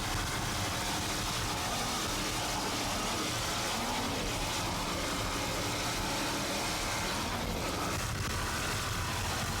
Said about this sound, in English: You hear those throttles working very hard, but certainly keeping a good constant RPMs up